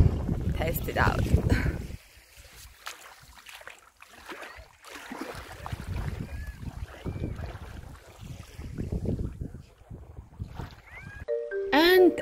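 Wind and sea waves at a beach by the sea in the early morning, with loud gusty wind buffeting the microphone in uneven surges over a low wash of surf, and a brief voice-like sound near the end.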